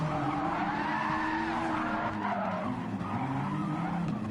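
Tires skid and squeal under locked brakes during a Gran Turismo 7 Formula 1 race replay at Spa, a continuous loud screech with wavering pitch over engine noise, lasting throughout.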